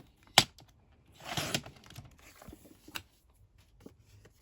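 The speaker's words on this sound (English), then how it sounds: "I'm gonna cut a little bit more than 1/2 inch off of this." Scissors cut through paper scraps for an Easter paper-craft folio, giving a few sharp, close snips and a short crunchy cutting burst with quiet pauses between.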